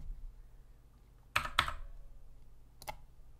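A few computer keyboard keystrokes: a quick pair of clicks, a pause, then one more key press, close and crisp against quiet room tone.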